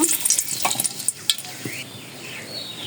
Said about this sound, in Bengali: কড়াইতে তেল আছে এখন দুটি তেজপাতা দিয়ে দেব